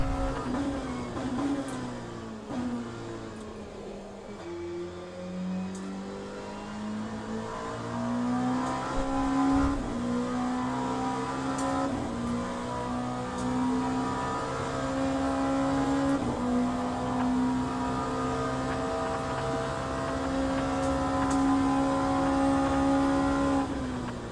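Ferrari race car engine in the Le Mans Ultimate racing game: a steady, loud engine drone with rising and falling pitch through gear changes, continuing without a break.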